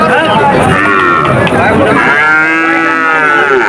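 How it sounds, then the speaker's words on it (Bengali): Calves of various breeds moo loudly at a busy cattle market, long drawn-out bellows overlapping one another close by, filling the whole stretch with little pause. "বিভিন্ন জাতের অনেক বাছুর আমার সামনে দেখা যাচ্ছে।"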